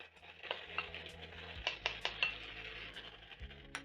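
Beef is stirred back into a hot pan of softened vegetables for a stir fry: a soft, continuous sizzle under repeated clinks and scrapes of a utensil against the pan, several sharp taps near the middle.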